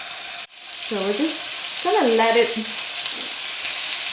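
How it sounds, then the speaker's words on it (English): Pork ribs laid meat side down in a very hot wok give a loud, steady frying sizzle that rises sharply after a brief quiet moment, with someone talking over it. "You definitely want to hear that nice sizzle."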